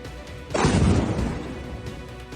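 A single heavy blast from an Iranian ballistic missile strike hits suddenly and rumbles low and loud, then fades into a lingering roar over a couple of seconds.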